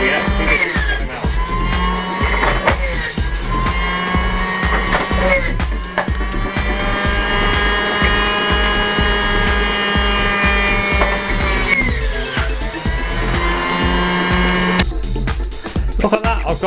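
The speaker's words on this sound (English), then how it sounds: "putting them in the liquidiser. It's a Philips 500 watt liquidiser." A Philips 500 watt liquidiser whirs continuously as it blends apples, a loud, close motor drone with a grinding edge that dips briefly now and then and runs for over fifteen seconds.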